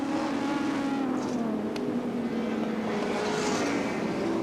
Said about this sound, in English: you can see just exactly what brake horsepower can do for you here as Peter Brock goes through, overtaking Alan